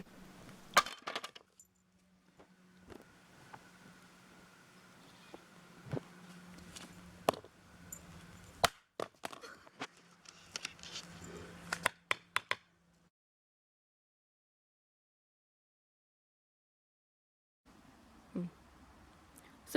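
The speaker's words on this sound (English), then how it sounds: "Smashing the drive with a club." A hard drive is struck repeatedly with a baseball bat, sharp metallic cracks and clinks in an irregular run of blows, close up, followed by a long silence and a few final knocks.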